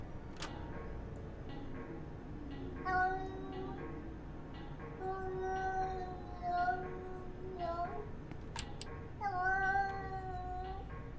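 In the Yuppie Psycho video game, a cat caterwauls in long wavering yowls and meows that repeat several times, loud and near over a low steady background, with clicks now and then.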